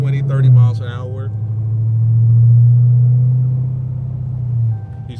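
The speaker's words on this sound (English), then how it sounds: "All right, we're driving. We're getting up to about 20, 30 miles an hour." A Dodge Charger Hellcat rolls along at 20 to 30 mph with a steady, deep engine drone that swells and eases. A voice speaks briefly at the start from inside the car.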